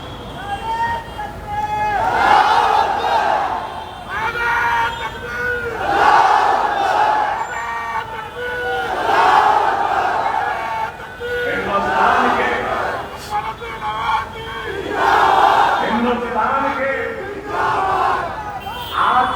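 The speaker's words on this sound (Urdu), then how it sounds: "یہ لوگ نعرے لگا دیتے ہیں" Large crowd at an outdoor political public meeting on a playground in Byculla, Mumbai, loudly chanting slogans in repeated rhythmic bursts, with voices roaring in waves throughout.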